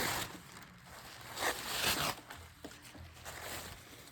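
Adhesive tape being pulled off a roll for a napkin craft, a faint, close crackling rip in several uneven pulls, with short pauses between strips and no talking.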